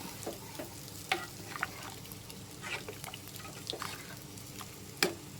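Thick first coconut milk stirred into olan, a Kerala sadya dish, in a pot, producing quiet liquid swishes and occasional spoon taps against the vessel over a low simmering hiss, close and soft, without speech.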